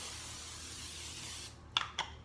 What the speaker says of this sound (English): I'm going to start with my cookie sheet, spray it with cooking spray.